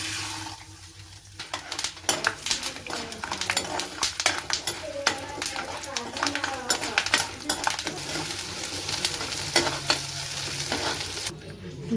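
Hot oil sizzling in a pan with cabbage, a steady frying hiss layered with frequent spoon scrapes and clinks against the pan, close and continuous throughout.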